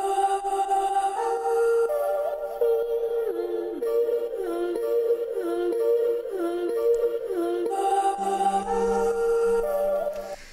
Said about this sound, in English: So probably the most identifiable thing would be the vocal chop, which was actually just done in Arcade.